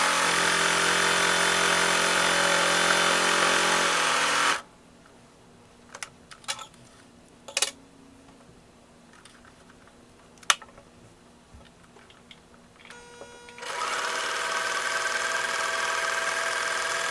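A sewing machine runs steadily while stitching the long sides of fabric for a double-decker rat hammock, droning in two continuous bursts at the start and end with a quiet pause between holding a few soft handling clicks.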